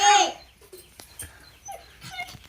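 A puppy gives a short, loud whimpering yelp at the very start, and a few faint, scattered noises follow in an otherwise quiet setting.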